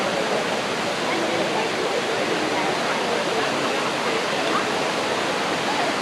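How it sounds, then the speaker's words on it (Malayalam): Water rushing steadily down a stream toward the Kaveri river near Madikeri, a dense, loud, continuous broadband roar with no pauses. "ഇതിന് ഒഴുകിയിട്ട് പോകുന്നത് നേരെ നമ്മുടെ കാവേരി നദിയിലേക്കാണ് ഒരു ഒഴുകിയിട്ട് പോകുന്നത്"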